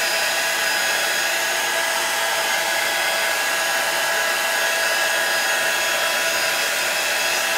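Steady close-up roar of a heat tool blowing hot air onto a craft piece with gold-painted hearts, a constant broadband whoosh held for the whole stretch with no voices.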